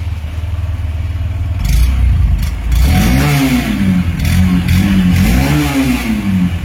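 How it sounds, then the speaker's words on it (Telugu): A Honda Shine 125 motorcycle engine idles, then revs up and down through its silencer, the exhaust note rising and falling in smooth swells, close and fairly loud. "ఒకసారి ఇంజన్ ఎగ్జాస్ట్ విందామండి త్రూ సైలెన్సర్"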